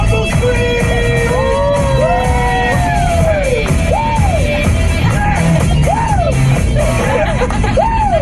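A radio-event crowd screams, whoops and cheers loudly and continuously, with rising and falling shouts layered over a dense roar of voices.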